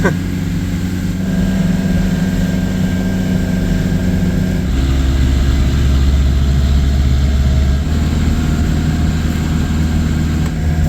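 A small camper van's engine labours in second gear up a winding climb near Monaco, a loud, continuous low drone that shifts to a deeper, heavier rumble partway through.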